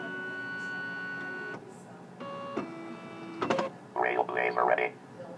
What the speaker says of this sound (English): then the paper inside your Blazer is going to move back and forth and the unit will say